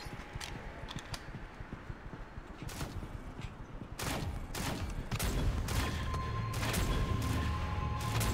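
Shotgun blasts in the mobile shooter Shadowgun Legends during a PvP match in a jungle map, loud repeated bursts of fire with overlapping gunshots that grow denser and louder in the second half, no talking.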